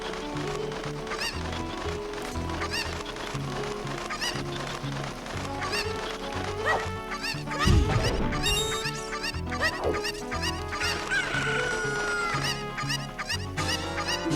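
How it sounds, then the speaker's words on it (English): Chickens in Legend of Zelda: Ocarina of Time cluck repeatedly in a busy chorus over looping game music, with a louder squawking burst midway. "Apologize for all those chicken noises."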